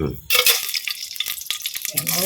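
Mustard seeds, urad dal and chana dal frying in hot oil for tempering, a close sharp sizzle with popping crackles that bursts in loudly and runs through, with a voice talking briefly at the start and end.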